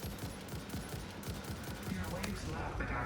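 Rapid gunfire pours into a rhino in the Satisfactory video game, dense repeated shots with a voice talking over the volley.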